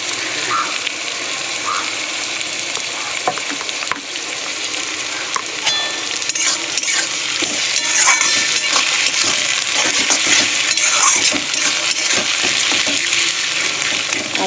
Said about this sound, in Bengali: আদা রসুনকে একটু ভাজতে দেবো।